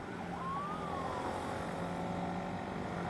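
An ambulance siren wails faintly in the distance, a rising and falling tone sweeping once over steady street and traffic noise.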